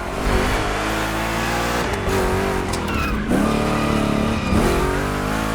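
Two Chevy big-block cars race in The Crew Motorfest, engines roaring and revving loudly and steadily, with tire squeal through rough turns.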